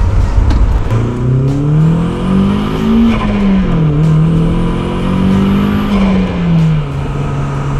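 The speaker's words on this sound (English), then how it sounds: "A little bit of a turbo whine, even a little bit of blow off or whatever you want to call that, like bypass sound" A Nissan S15 Silvia with a pod filter pulls hard through the gears, its engine note rising and dropping with shifts, a thin turbo whine above and a brief blow-off hiss between pulls, loud and close throughout.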